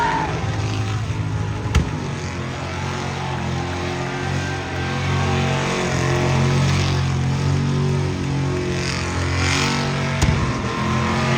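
Hot rod car doing a burnout, a loud sustained engine roar with revving that swells in the middle, plus a couple of sharp thuds, continuous over about eleven seconds.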